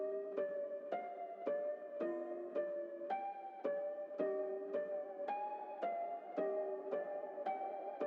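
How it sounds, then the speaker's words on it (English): A dark, muted bell sample built in FL Studio with the highs cut, playing a slow repeating melodic pattern of evenly spaced struck notes, soft and clean with no voices. "I wanted to give it a very dark bell"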